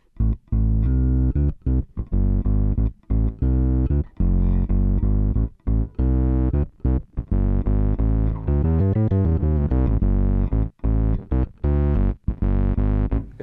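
Bass guitar runs through an octave pedal with OC-2 style tone, giving thick, doubled low notes in choppy phrases with brief gaps, played alone and up close.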